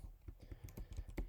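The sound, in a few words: typing Python code on a keyboard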